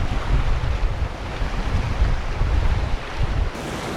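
Strong cold wind of about 25 knots blows off the strait across open water on a boat's approach to Victoria, buffeting the microphone in a loud rumbling gusty rush, with waves washing underneath and no talking.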